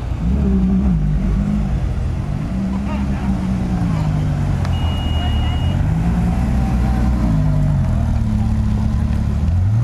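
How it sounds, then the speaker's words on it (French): A Ford GT on the road produces a steady, fairly loud engine drone whose pitch rises and falls, with a person talking over it throughout. "première Ford GT que je vois de ma vie sur la route"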